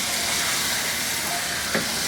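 Chicken sizzles steadily in a pan as it fries with raw spices for railway chicken curry. The hiss is dense and continuous, with a brief sharper crackle near the end and no voices.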